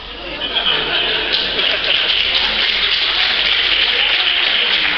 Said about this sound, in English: I'll ask the audience to hold applause until after the person's finished